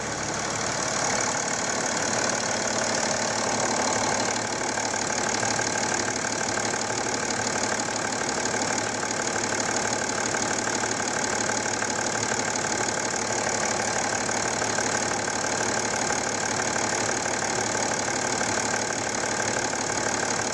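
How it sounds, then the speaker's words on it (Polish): A BMW car engine idles steadily for a long stretch, a continuous even mechanical drone with a fine ticking texture, heard close and at moderate loudness with no talk over it. "Chcecie posłuchać może, jak ten silnik pracuje."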